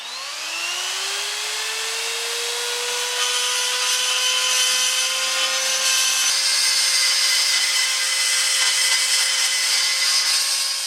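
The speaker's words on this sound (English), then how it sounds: "I'm just going to pop outside, do a bit of filing off to just bring them out" Metal flanges for a DeTomaso Pantera engine being filed down, heard as a steady motorized whine that rises in pitch as it spins up and then holds continuously, close and with no talking.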